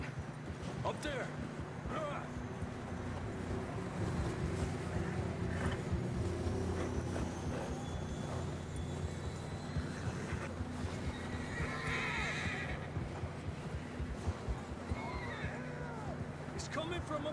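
Horses in a Wild West video game neigh and whinny repeatedly, with clip-clop hoofbeats and a busy outdoor soundscape underneath, while voices talk over the action.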